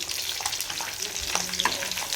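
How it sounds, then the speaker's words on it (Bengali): Fish frying in a hot pan gives a steady, close sizzle with continuous crackling and spitting oil, loud and unbroken throughout, with no voices. "এখানে মাছগুলো ভাজা হচ্ছে"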